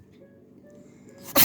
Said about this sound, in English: here she goes sneezing